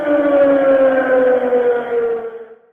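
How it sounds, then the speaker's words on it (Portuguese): A civil defense siren in Caldas de Vizela, used to call residents out into the street, sounds one loud, steady wailing tone that holds and then fades away at the end. "Ouvimos nesta altura a sirene que é usada em Caldas de Vizela para chamar os vizelenses para a rua."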